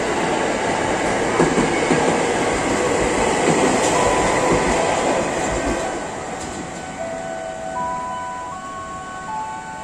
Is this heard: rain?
no